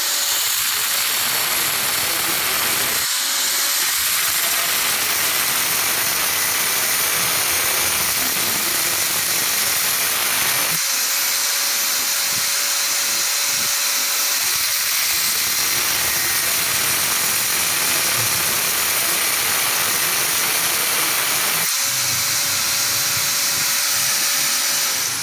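A damper bush for a Yamaha R15 is ground down in a workshop, with steady loud rasping across the whole stretch, briefly interrupted by short pauses and a thin whining tone at times.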